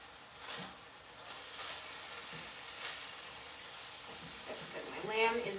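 Ground lamb browning in a pan gives a soft, steady sizzle, faint and constant, while a person talks over it.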